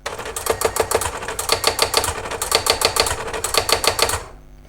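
A Brother AX-15 electronic typewriter erases a word with a fast, loud rattle of rapid clicking strikes in several quick clustered bursts, then stops abruptly.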